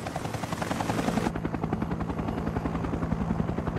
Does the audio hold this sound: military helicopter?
yes